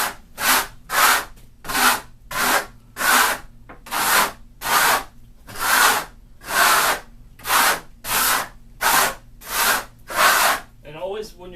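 A steel trowel drags and compresses Marmorino KS Venetian plaster with aggregate across a wall, making a regular series of loud, rasping strokes, each about half a second long, repeated steadily with brief pauses between them.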